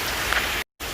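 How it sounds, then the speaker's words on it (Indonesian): Heavy rain falls hard and steady, a dense hiss of drops close by that cuts off abruptly into a moment of silence before resuming. "Suara hujan kenceng banget ya."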